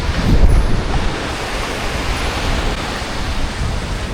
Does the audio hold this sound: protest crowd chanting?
no